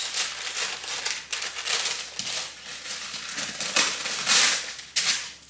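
Baking paper is handled and crinkled while lining a baking tin for vegan banana bread, giving a close run of irregular rustles and crackles with no one talking.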